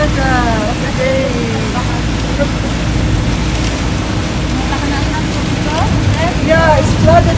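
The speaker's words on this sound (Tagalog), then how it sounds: "the rain is so strong. Very heavy rain. So heavy rain in Jeddah today." Very heavy rain pouring down in Jeddah during a sudden storm that floods the street, a dense, loud, continuous roar of water with wind, and a voice faintly audible in the background.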